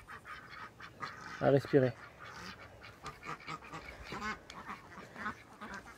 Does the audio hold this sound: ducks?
yes